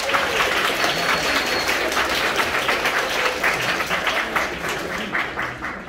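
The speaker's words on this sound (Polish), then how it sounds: "Brawa dla Was!" Dense, steady applause from a large crowd of high school students and guests at a second-year half-way ball (półmetek) in Strzelin, Poland, filling the whole stretch and easing off slightly toward the end.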